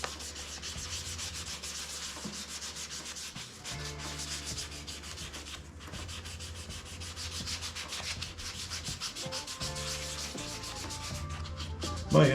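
Fingertip hand-sanding of guitar frets during a Telecaster build, a steady repetitive back-and-forth rubbing scrape at close range, continuing alone without talk.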